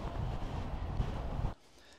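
Strong gusts buffet the microphone outdoors beside a 25-foot 2025 Flagstaff travel trailer, a loud low rumbling roar that holds steady for about a second and a half, then cuts off abruptly to near quiet.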